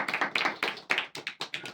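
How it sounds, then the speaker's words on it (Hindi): An audience gives a short burst of clapping, a quick run of crisp, close hand claps in uneven rhythm that fades out within two seconds. "ताली बजाइए इनके लिए"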